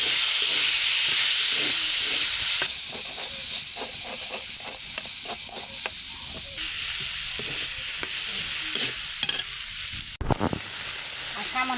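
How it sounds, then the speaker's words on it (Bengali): Mutton with a chopped medium tomato being stirred in a pan, a steady close sizzle with repeated scraping strokes of the spoon throughout and a brief clatter near the end. "এখন নাড়াচাড়া দেব।"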